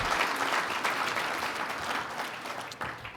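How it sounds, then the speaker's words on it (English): Sustained, dense applause from a luncheon audience at a safety awards gala, honoring finalists and highly commended winners, with many hands clapping at once, loud and even throughout. "one more round of applause, please, for all our finalists and our highly commended winners"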